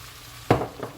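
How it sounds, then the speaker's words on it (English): Garlic and onion hit a hot pan of Cajun shrimp with a sudden, close sizzle burst midway, preceded by quiet kitchen background and trailing into a softer crackle. "Now I'm going to add some garlic and onion."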